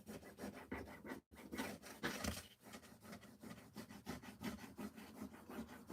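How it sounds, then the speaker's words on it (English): A Magnolia rub-on transfer is rubbed onto a tag, giving rapid rhythmic scraping strokes with a brief pause, close and fairly quiet. "We want to rub it so that it adheres to the tag and kind of releases from this plastic sheet on top."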